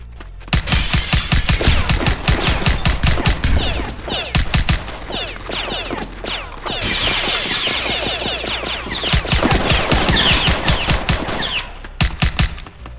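Rapid gunfire from a shooter video game, including a suppressed ARP rifle, rattles in dense bursts of close, loud shots. The shooting comes in fast clusters with brief gaps, with no voices over it.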